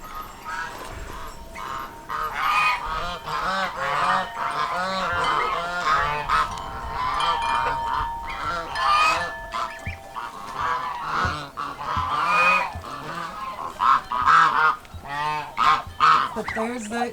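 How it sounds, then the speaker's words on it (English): A flock of geese honks continuously and loudly, many overlapping calls up close, with a voice speaking briefly amid the noise. "But there's that goose troop."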